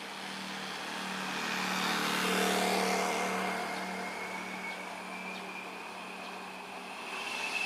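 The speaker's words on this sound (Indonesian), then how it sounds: "Bus Putra Pelangi Perkasa dari Kota Medan menuju Kota Jakarta." Putra Pelangi Perkasa intercity bus travelling from Medan to Jakarta drives by on a road, a steady engine drone that swells to a peak midway and slowly recedes, with no talk.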